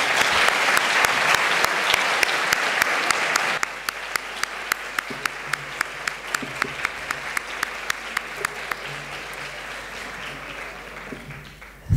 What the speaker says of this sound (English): I think that this deserves another round of applause.